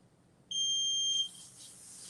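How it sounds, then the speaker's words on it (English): A workout interval timer sounds one sharp, steady electronic beep lasting under a second, loud against quiet room noise, during a home fitness session. "Hopefully you can hear the timer because that's what I'm gonna be listening to."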